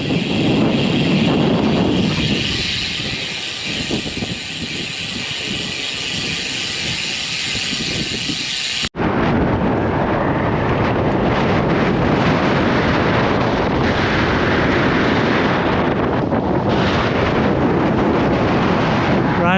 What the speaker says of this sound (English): See how strong the wind is and where it's coming from.